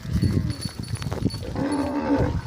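Gir cows moo loudly and close by, deep drawn-out lowing calls overlapping among a herd of cattle in the open, with no talk over them.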